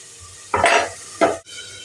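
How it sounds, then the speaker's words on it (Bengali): A lid goes onto a cooking pan on a stove with two short, close metallic clatters about half a second apart, followed by a quiet background hiss. "আবার আমি ঢাকনাটা চাপা দিয়ে দিলাম"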